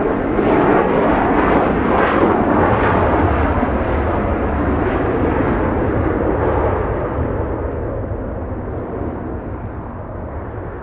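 A Delta 767 heavy jet arrives at Los Angeles International Airport, its broad engine roar loud and steady close by, then slowly easing as it passes.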